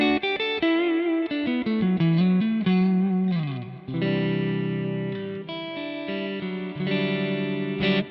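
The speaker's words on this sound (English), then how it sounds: "you've got a Mind Hall reverb" An electric guitar plays through a Mind Hall reverb on a Nano Cortex, with picked notes and a sliding phrase into sustained chords that bloom into a wide, lingering wash.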